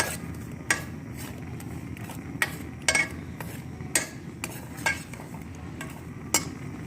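Besan roasts in ghee in a pan with a low, steady sizzle. Sharp scrapes and taps of a spoon against the pan break through at irregular intervals, every second or so, and there is no talk.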